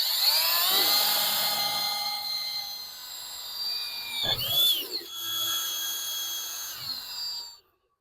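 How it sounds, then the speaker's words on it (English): A power drill whines steadily at a high pitch, drilling through holes in the metal frame of a Worksman Dual Trike, briefly straining and changing tone midway, then cutting off abruptly at the end. "Now I'm just going to drill some through holes through this frame here."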